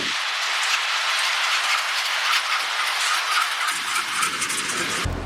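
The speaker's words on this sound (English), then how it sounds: "this one actually happened to be NS242, which is a manifest intermodal or manimodal train" Norfolk Southern NS242, a manifest intermodal freight train, rolls past loudly and close at Inman on the Greenville District, a continuous roar of wheels and railcars with rhythmic clicking over the rails.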